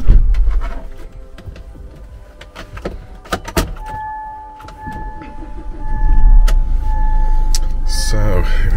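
A 2015-era SsangYong Rodius Turismo 2.2 EX diesel MPV with key ignition: keys and interior clicks, a chime, then the engine cranks and catches into a loud low idle that continues to the end.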